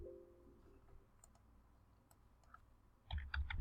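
A computer mouse clicks a few times while working in Unreal Development Kit materials, sparse light ticks over a quiet room hum, followed by a louder cluster of quick clicks and taps at the end.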